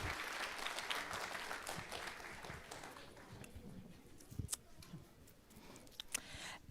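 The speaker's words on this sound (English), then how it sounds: "Let's give them a round of applause" An audience at a city council meeting applauds, a dense patter of many hands clapping that gradually thins and fades, ending in a few scattered claps.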